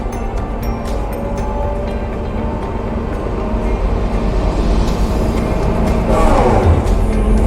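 A hydraulic excavator swings its upper structure to the left under left-joystick control, giving a steady, close diesel drone with hydraulic whine that builds slightly toward the end, with no talking.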